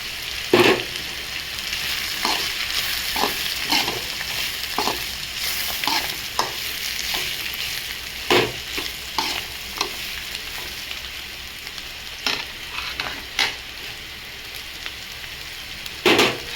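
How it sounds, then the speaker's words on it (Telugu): Flat beans fry in a pan with coconut chili powder, a steady close sizzle broken by repeated sharp scrapes and taps of a spatula stirring, with no talking. "చిక్కుడుకాయలో ఉన్న నిమ్మంతా తీసుకునేలాగా ఇలా మొత్తం వేగేసిందండి. ఇప్పుడు బాగా వేగిపోయింది ఇది."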